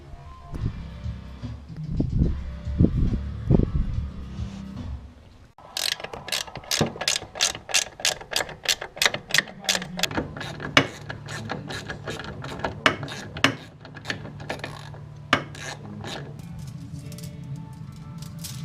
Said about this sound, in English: once I bolt this and get it tight, then I'll just adjust this line